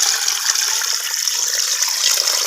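Water poured into a pot of beef for yakhni pulao, a loud, continuous splashing gush that runs steadily for a couple of seconds, close by and with no talk.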